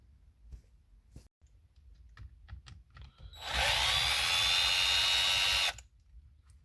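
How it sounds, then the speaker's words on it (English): Power driver undoing the screws holding the roll connector on a 2005-2009 Subaru Legacy steering column: scattered close clicks and handling taps, then a loud steady whir lasting about two seconds before stopping. "And now we're just undoing these 4 screws that hold the actual roll connector in."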